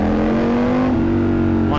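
A Triumph Scrambler 1200 motorcycle engine holds a loud, close, sustained rev whose steady pitch lingers and barely drops before a brief rise at the end.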